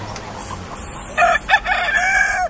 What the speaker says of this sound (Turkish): Evet, burada da tavuklarımız var